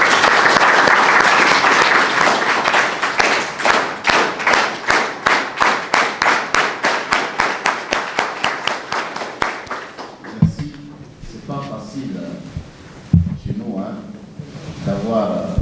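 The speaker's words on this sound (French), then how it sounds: "Je voudrais qu'ensemble nous le remercions à travers des tonnerres d'applaudissements." A crowd at a national convention claps together in a steady rhythmic beat for several seconds, then the clapping dies out and talking follows.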